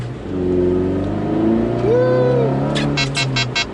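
Mazda on snow tires accelerating hard along a slushy on-ramp, its engine climbing through revs in a loud close rising whine, easing near the end as a brief burst of sharp knocks sounds.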